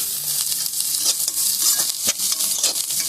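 Carrots are stirred through a sizzling pan for a Darjeeling-style chicken momo filling, giving a steady bright frying hiss broken by soft scraping strokes from the spoon, close and alone with no talk.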